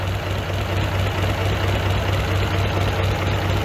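A prewar Riley Brooklands replica engine idles steadily around 500 to 600 rpm, a low even rumble with a faint rhythmic pulse, close by and with no voices.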